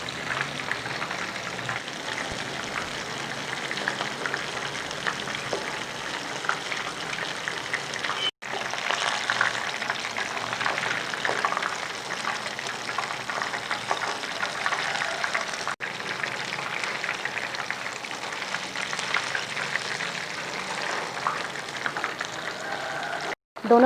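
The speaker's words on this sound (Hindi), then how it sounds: "जितनी गुंजाइश हो फ्राइंग पैन में उतनी ही है चिकन के पीस डालिएगा" Chicken pieces fry in a frying pan over a medium flame, giving a steady, dense crackling sizzle that runs for over twenty seconds with only brief dips.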